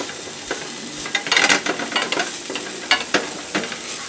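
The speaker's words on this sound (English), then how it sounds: "And then what we're going to be adding is our onions right in" Diced onions and garlic cloves hit hot oil in a pan, crackling and sizzling close up, with scraping stirs and clattering bursts as the pieces are tossed and moved around.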